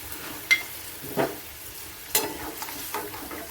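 Hilsa fish in mustard paste bubbles in a pan, a soft continuous sizzle broken by a few distinct scrapes and clinks of stirring.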